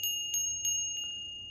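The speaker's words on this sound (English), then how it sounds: "As you tune into the sound of the bell, you'll start to hear the overtones" A meditation bell rings with sustained, shimmering overtones that hold steady while several soft, bright strikes land at roughly even intervals, close and calm in a quiet room.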